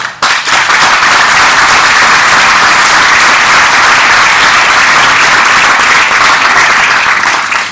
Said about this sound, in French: bravo Henri, je pense qu'on peut l'applaudir.